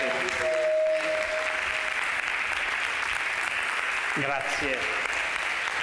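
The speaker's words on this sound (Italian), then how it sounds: "Lo accogliamo con un applauso" Audience applause in an Italian hall welcoming a writer at the Molte Fedi 2021 event, a steady broad wash of clapping throughout with someone briefly speaking over it.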